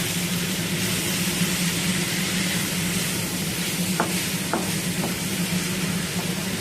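Small chopped shrimp with potato and pointed gourd are stirred in a hot curry pan, a steady sizzle running underneath while a spoon scrapes the pan in a few distinct strokes toward the end.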